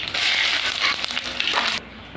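Mustard seeds and dried red chilli hit hot oil in a kadai as a tempering for dal, giving a loud burst of hissing sizzle that fades after about two seconds, with a small clink at the end.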